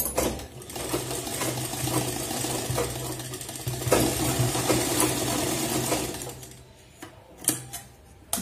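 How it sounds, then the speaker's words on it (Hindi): A sewing machine stitches fabric for a blouse tassel, running in a steady close, rapid mechanical chatter for about six seconds before slowing and stopping with a few clicks. "मैं इसमें बीच में सिलाई लगा लेती हूँ ताकि कपड़ा इधर उधर खिसके ना"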